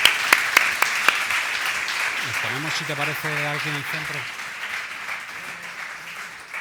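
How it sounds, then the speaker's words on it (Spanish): Audience applause at a panel event on end-of-life vehicle waste management: steady clapping that fades gradually, with someone speaking over it partway through. "Y un aplauso para ellos, por supuesto."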